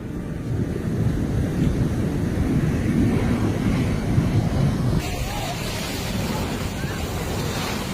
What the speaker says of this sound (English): Overwhelmed, leading to a tidal wave of water,